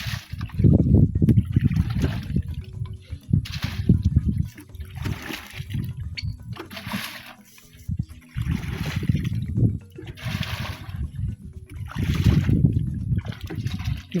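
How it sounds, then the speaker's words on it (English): Water being poured or scooped into a container in an African village, arriving in repeated splashing, gurgling bursts with short pauses between them, close and moderately loud. "You fill that container with water."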